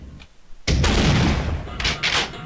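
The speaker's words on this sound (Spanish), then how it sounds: "ha hecho un doble disparo" Two sharp gunshots ring out in quick succession in Half-Life, loud and booming, then fade into a noisy echo before a softer burst follows.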